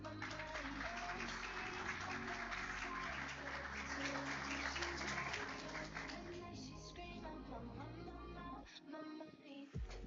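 Audience applause for speaker Everson Mendes at a business talk, steady dense clapping that rolls on for several seconds before tapering off, with a voice briefly under it.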